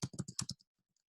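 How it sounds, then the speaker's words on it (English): Quick burst of about six close computer keyboard keystrokes during a Python coding session, sharp and clear, followed by a few faint isolated clicks and near silence. "let me type here"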